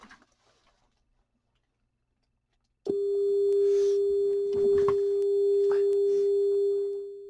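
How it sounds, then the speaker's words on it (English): A steady pure sine test tone plays loudly through speakers fed by an Onkyo P-304 preamplifier, switching on abruptly after a quiet start and holding constant, with faint clicks and rustling underneath. "And there's our sine waves."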